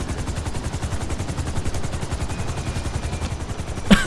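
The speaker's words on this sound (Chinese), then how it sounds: "不要乱开枪！" Rapid automatic gunfire in GTA Online rattles in a fast, even stream of shots at moderate loudness, ending with a sharper burst of noise.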